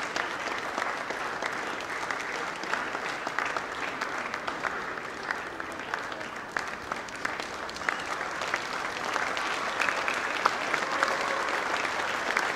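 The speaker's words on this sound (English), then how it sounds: "A round of applause for our volunteers" A school audience gives the volunteers a long round of applause at an event at The Orbis School, Mundhwa, many hands clapping steadily and densely, swelling slightly toward the end.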